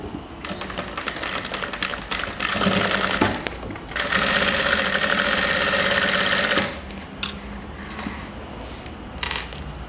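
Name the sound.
sewing machine stitching a seam on fabric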